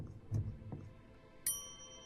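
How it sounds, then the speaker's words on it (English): A bell rung in the Lamplight City video game: one bright, sharp ding near the end that rings on with a sustained tone, with a few soft knocks before it. "Let's ring the bell."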